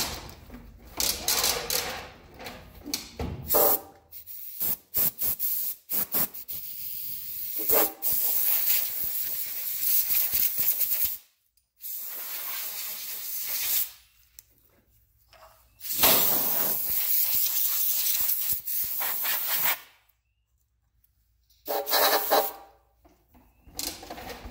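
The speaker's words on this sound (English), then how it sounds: "I'm gonna blow some of this stuff off." Compressed air blasts dust off a length of PVC pipe being made into a contrabass flute, in loud repeated hissing bursts of varying length separated by short silences.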